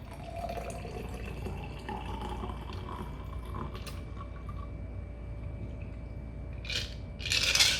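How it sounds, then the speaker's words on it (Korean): A stirred cocktail is poured from a mixing glass through a bar strainer into a serving glass. The pour is a faint, steady liquid trickle under mechanical creaks, with a louder clink and splash near the end. "스트레이너를 끼우고 칠링된 얼음은 버려줍니다. 자, 잔의 밑부분을 잡고 잔에 부딪히지 않게 음료를 따라줍니다."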